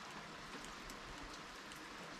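Steady rain falls over an outdoor work area where a Freightliner M2 truck is parked without a garage, a constant dense hiss of drops on surfaces running throughout with no voices.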